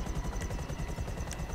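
A helicopter in GTA V Online lands in the middle of a street, its rotor thumping in a fast, steady pulse with a whining engine hum, loud and close.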